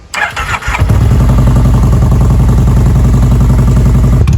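A motorcycle fitted with an aftermarket exhaust cranks with a few clattering turns, then fires and settles into a loud, steady, throbbing idle, close up with no talking.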